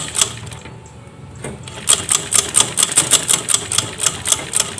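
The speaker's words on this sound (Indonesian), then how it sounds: "Kemudian kita mulai menjahitnya ya teman-teman" A sewing machine stitches a Japanese zipper onto a kebaya dress. A short quiet start gives way to a steady, loud, rapid rhythmic chatter of the needle running close by.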